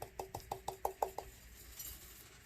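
A glitter-covered tumbler is knocked against a hard surface seven times in quick, even succession to shake off loose gold glitter, each a close, sharp clinking tap, then quiet.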